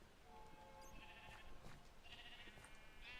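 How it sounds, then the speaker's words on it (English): Sheep bleat in the Minecraft FTB video game, several short, faint cries spread across the clip, with a soft background and no talking. "let's move that damn sheep out of the way"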